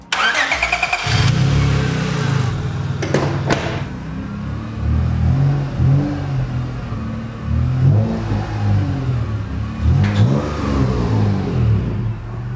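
A turbocharged Honda Accord V6 starts up with a quick cranking burst, then revs repeatedly in rising and falling swells with intake noise before settling toward idle, loud and close with no talking.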